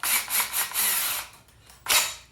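A power drill spins in short bursts to twist wires together, a close, high whirring that pulses on and off several times, then one last quick spin.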